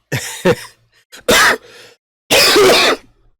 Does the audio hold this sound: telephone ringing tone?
no